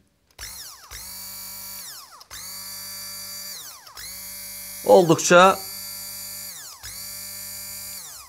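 A small hand blender motor whirs steadily in repeated bursts while running empty, switched on and off several times, with a brief voice speaking over it midway.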